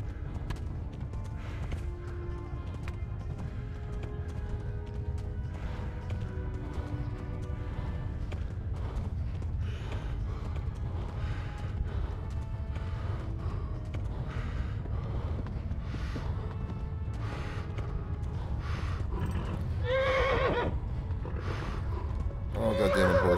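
A horse's hooves pound in a steady gallop over a low rumble in the video game Kingdom Come: Deliverance, with a couple of whinnies breaking through near the end.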